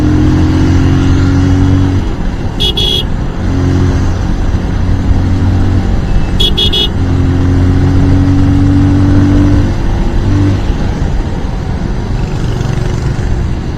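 A Bajaj Pulsar 220 motorcycle on a road runs close and loud, its engine droning and revving as it pulls through acceleration, the note holding strong throughout.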